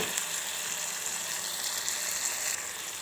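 Cauliflower (gobi) fries in a pan with a steady, dense sizzle that holds loud and constant throughout, with faint scraping of stirring underneath.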